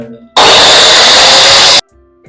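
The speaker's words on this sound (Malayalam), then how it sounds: "പൈപ്പ് കട്ട് ചെയ്യണം" Power tool buzzing steadily through a plastic pipe being cut for a siphonic toilet installation, one loud continuous burst of about a second and a half that starts and stops abruptly, with quiet before and after.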